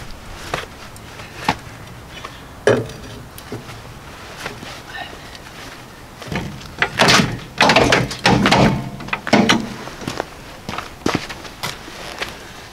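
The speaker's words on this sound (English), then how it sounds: "So first thing I'm going to do is bust these lug nuts loose." Lug nuts being broken loose on a vehicle wheel outdoors in cold weather, heard as scattered clanks and thunks of a wrench with a dense cluster of metallic hits midway, close and fairly loud.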